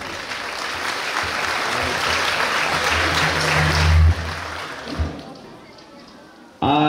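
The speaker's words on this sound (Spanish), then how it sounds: "para quien pido un fuerte y caluroso aplauso." Guests at a wedding reception in Santiago Cuixtla, Nopala, clap loudly and steadily for the parents of the bride, a dense wash of hands that fades out near the end before a sharp burst.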